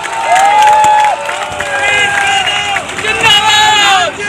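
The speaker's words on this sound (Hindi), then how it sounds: "एक बार जोरदार अपने लिए ताली" Crowd at a political rally for an Aam Aadmi Party candidate in Rewari clapping and cheering loudly, a dense roar of applause and shouts with whistling tones, continuous and close throughout.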